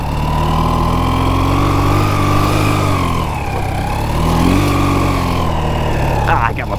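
A sidecar motorcycle's engine runs steadily after a kickstart, a loud continuous mid-pitched drone that dips briefly and then holds, with a faint voice in the background.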